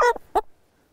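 A rooster on a small farm, raised for slaughter, gives two or three short, loud gobbling clucks, each under half a second, with near silence between them.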